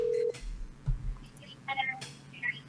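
A phone call being dialed to reach someone's sister: a short steady dial tone opens, followed by a few faint touch-tone beeps and soft handling noises, with quiet breathy murmuring under it.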